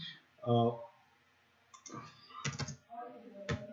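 A few sharp keystroke clicks on a computer keyboard while typing a stock scanner name, sparse and close, with someone talking in between.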